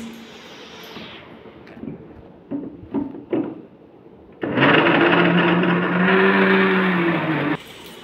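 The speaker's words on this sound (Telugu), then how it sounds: "ఒకసారి మళ్ళీ మిక్సీ" Several short clicks and knocks lead into a mixer grinder whirring loudly for about three seconds as it grinds jaggery for laddus, with a high whining hum, then cutting off abruptly.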